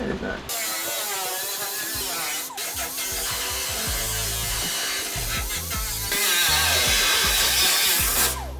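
A drift car's body parts being cut with a power tool, a continuous loud grinding and rasping that shifts in pitch and intensity throughout, with no voices.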